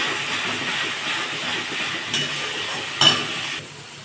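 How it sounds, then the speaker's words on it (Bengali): Kashmiri chili powder and black pepper powder stirred into oil in a frying pan for an egg curry, a steady sizzling hiss with a couple of brief spoon scrapes near the end. "কাশ্মীরি লঙ্কার গুঁড়ো দেবো গোলমরিচের গুঁড়ো সবটা মিশিয়ে নিই"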